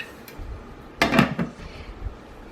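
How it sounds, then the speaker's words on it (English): A crock pot lid is set down onto the pot with a short clattering ceramic-and-glass clunk followed by a couple of lighter settling knocks, close and alone in a quiet kitchen. "I'm going to put the lid on."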